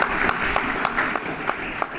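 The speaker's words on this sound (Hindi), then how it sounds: "और विकास सर के लिए एक बार जोरदार तालियां।" A crowd at a block-level youth parliament event applauds steadily, dense clapping filling the whole short stretch at moderate loudness.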